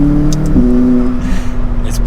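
McLaren 570S supercar with a twin-turbo V8 and dual-clutch gearbox, heard from inside while cruising gently: a steady, loud engine drone with a brief rise in pitch partway through, no hard acceleration.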